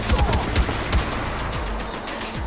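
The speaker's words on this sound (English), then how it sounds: "I just started shooting" Gunfire in Far Cry 4, a rapid burst of sharp shots early on, then scattered single shots at a distance, loud and punchy with no talk over it.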